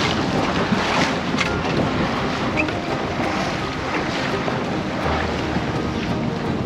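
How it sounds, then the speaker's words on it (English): Strong wind blasts across a small sailboat sailing off a beach, making a loud, continuous roar of wind buffeting the microphone. Water and waves rush along beneath it, and no one speaks. "Whew, the wind's really blowing hard."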